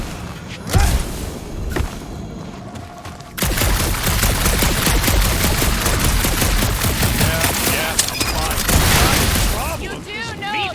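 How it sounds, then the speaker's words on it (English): Sustained automatic gunfire in Guardians of the Galaxy, shooting at monsters in a dark area, rattles loudly and almost continuously after a few isolated shots, mixed with whooshes and characters talking over it. "You do know that aimless shooting isn't gonna scare the monsters"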